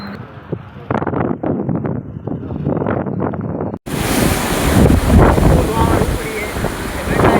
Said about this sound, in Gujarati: વરસાદની સાથે પવન પણ ખૂબ જ હતો.